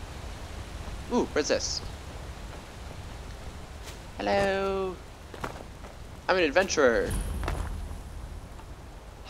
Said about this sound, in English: Kitties don't like the rain.